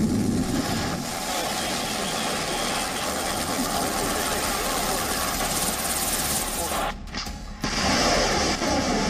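A helicopter drones steadily through a wartime attack, a continuous mid-level rotor and engine hum with brief dropouts near the end, under a voice speaking over it.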